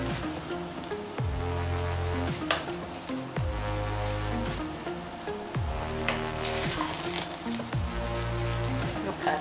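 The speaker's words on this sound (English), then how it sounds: "So I'm going to stir it together, but you have to be careful when you stir it together because of the fish" Jollof rice with fish being stirred in a sizzling pot, a steady frying hiss with repeated scraping strokes about every two seconds, heard alone without talk.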